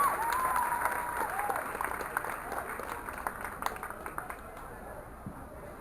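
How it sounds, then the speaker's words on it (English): A rodeo crowd applauds a rider, with the clapping starting full and thinning gradually into scattered claps, and a faint whistle heard near the start. "Hey, give him a round of applause."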